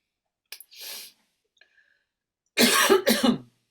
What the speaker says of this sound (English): I'm gonna have a little cough here